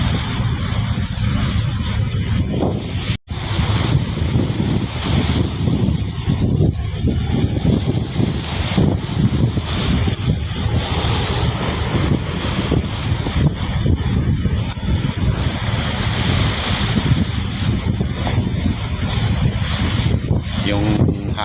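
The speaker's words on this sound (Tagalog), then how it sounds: "Yung hangin parang may nagbabadya na namang low pressure. Iba yung hangin." Strong wind roars across the microphone on a fishing boat out at sea, a loud continuous rumbling buffet with surging gusts and a brief dropout, waves and hull noise blended underneath.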